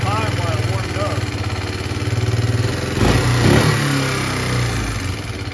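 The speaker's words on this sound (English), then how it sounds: "I have to sit here and hold the choke the whole time while I warm it up." A pit quad engine warms up with the choke held on, idling steadily and close with a thrumming, uneven note. It swells briefly midway as the revs rise, with no talk over it.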